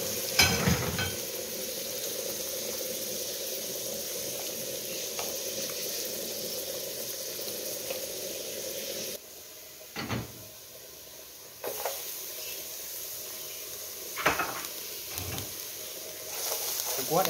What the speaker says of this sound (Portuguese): assim que dourar, eu coloco o alho.